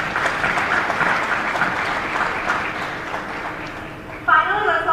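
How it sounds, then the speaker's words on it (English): Convention audience applause in a session hall, a full, sustained round of clapping from many people that continues evenly for several seconds before a speaker's voice takes over near the end. "Let's give her a round of applause for Mrs."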